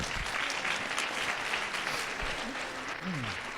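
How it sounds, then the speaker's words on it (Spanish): Conference audience applauding a doctor after a talk on exotic animals, steady crowd clapping throughout, with a voice speaking briefly over it near the end. "Bueno, pues le damos un aplauso"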